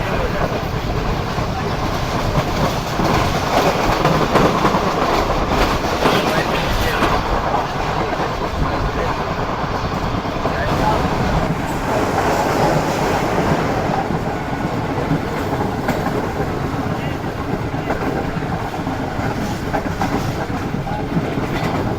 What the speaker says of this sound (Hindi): ज़बरदस्त स्पीड में स्किप किया है ट्रेन ने महराजपुर को